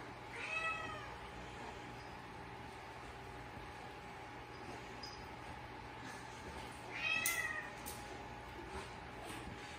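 Cat meowing indoors, two distinct drawn-out meows, one near the start and another around the middle, over a steady low background hum.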